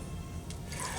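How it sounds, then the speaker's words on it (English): Wine pouring into a delicate glass, a steady liquid stream with a brighter splash near the end, close and fairly quiet, no talking. "So you just pour the wine"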